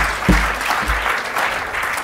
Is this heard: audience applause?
yes